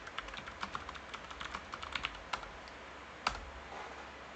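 Quick, irregular taps on a computer keyboard as a folder name is typed, close and quiet with short pauses between bursts of keystrokes.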